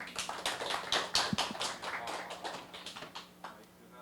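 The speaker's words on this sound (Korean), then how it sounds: "큰 박수 부탁드리겠습니다." Scattered audience clapping at a small Korean community talk event, a thin, uneven patter of hands that swells briefly and then tapers off.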